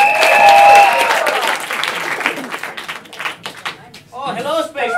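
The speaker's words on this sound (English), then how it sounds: "Round of applause for Blind Line" A burst of crowd applause greets an act at a live comedy show, loud at first and then thinning into scattered claps while voices and laughter rise and fall over it.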